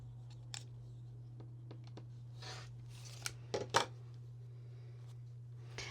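Quilting fabric is cut by hand, a few brief, soft snips and scrapes close by over a steady low hum, with a short cluster of crisper cuts near the end.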